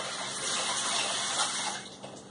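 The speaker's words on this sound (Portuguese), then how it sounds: "vou colocar água na torneira suficiente para que a minha mão fique coberta ali." Water runs from a tap into a container to fill it, a steady splashing gush close by that eases slightly near the end, with no talking.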